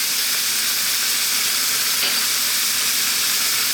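Tuna, onions and garlic frying in a pan for a spicy tuna tomato pasta, a steady, close sizzle and crackle that holds evenly throughout with no talking.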